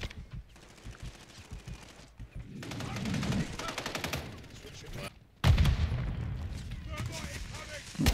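Rapid rifle gunfire from a Kastov 762 in an online shooter game, bursts of loud shots firing through a wall, with a sharp heavier volley near the end; someone talks over the shooting throughout.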